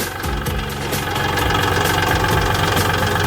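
A used Kubota L3608 diesel tractor engine revs up close by, its rough knocking rumble rising and holding steady.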